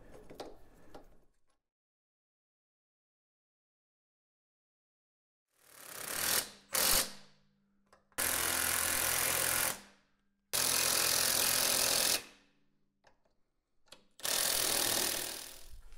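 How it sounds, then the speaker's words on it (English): An air-powered ratchet or impact tool drives sway bar bolts on a Jeep WJ in several loud, whirring bursts of a second or two each, separated by silence and small clanks. "I am gonna go ahead and replace our bolts for our sway bar."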